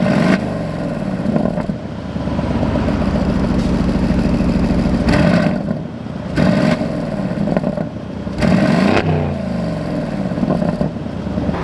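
An Aston Martin Vantage V8 rumbles through its aggressive exhaust, holding a loud steady drone with several sharp revs and throttle blips close by.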